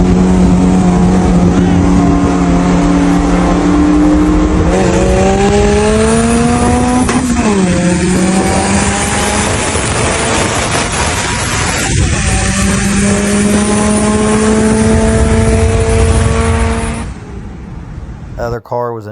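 A loud turbocharged Integra race car engine, tuned at 11 pounds of boost on pump 97 fuel, screams at high revs, climbing through gears with brief shift dips, close and continuous before cutting away near the end.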